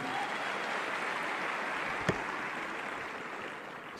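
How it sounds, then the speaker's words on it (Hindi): An audience in an auditorium at a network marketing event in India, clapping in a steady, diffuse patter that fills the room throughout, with a single sharper knock partway through. "एक बार जोरदार तालियां मेरे बड़े भैया के लिए"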